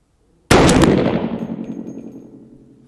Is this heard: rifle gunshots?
yes